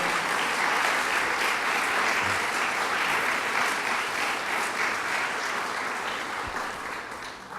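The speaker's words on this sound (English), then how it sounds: "Let's give them one more round of applause for their good work." Sustained applause from an audience at a bill signing, a thick wash of clapping that holds steady and then gradually fades toward the end.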